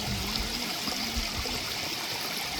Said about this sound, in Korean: 마을을 관통하는 개울물은 큰 바위 위로 흐르네요.